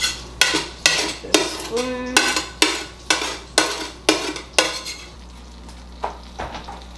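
A metal spatula scrapes stuck food off the bottom of a cooking pan in about ten firm, evenly spaced strokes, close and loud, with a faint sizzle underneath and a couple of softer scrapes trailing off.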